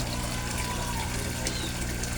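Running water from a koi pond filtration system fitted with a small 4-watt UV light, a steady pouring trickle held at an even level throughout.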